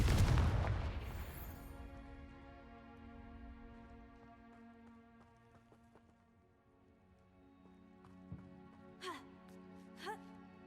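A Confringo fire spell explodes in the Hogwarts Legacy video game, a loud, deep blast right at the start that rolls off into a long fading rumble, followed later by a few faint clanks and whooshing game effects.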